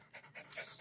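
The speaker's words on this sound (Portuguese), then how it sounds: "Tô aqui com minha cachorrinha." A small dog pants close by in quick, rhythmic breaths, soft and airy, with no talking.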